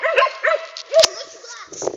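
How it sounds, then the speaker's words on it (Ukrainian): Village dogs bark nearby in several sharp, yelping bursts close together, loud and excited. "Та хватить гавкать, ну що, замітили тих собак?"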